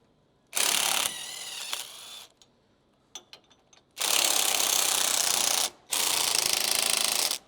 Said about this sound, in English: all we have to do is remove the 2 bolts underneath. – 17mm socket.